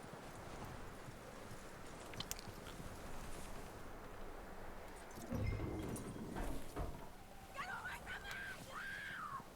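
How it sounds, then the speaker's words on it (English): Horse hooves clip-clop at a walking pace in Red Dead Redemption II, a faint steady clatter under game ambience, with a brief whinny-like call and other muffled game sounds toward the end. "That looks like a decent horse. You should keep him. Get that horse hitched."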